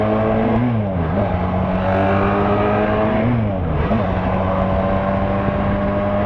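A CFMoto manual motorcycle ridden by a beginner, its engine droning steadily and loud up close, the pitch dipping and rising twice as gears are shifted and the throttle is blipped.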